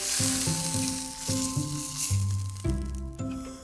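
Lamb shanks sizzle and fry in a hot pan as they brown, giving a loud steady hiss, with tonal background music running underneath.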